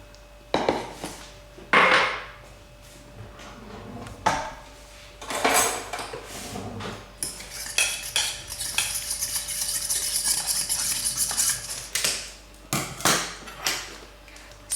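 A spoon scrapes and clinks against a bowl in bursts, with a steady swishing of pudding mix being stirred into a glass of milk in between, close by.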